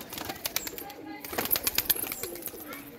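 Pet pigeons take off and fly overhead with quick flurries of wingbeats and soft bird calls. Faint voices sound in the background.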